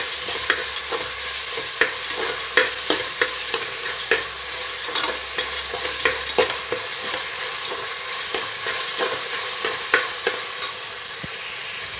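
Peas stirred and fried in a pan while preparing tomato bath, with a steady sizzle and repeated sharp scrapes and clicks of the spoon against the pan, close and fairly loud throughout.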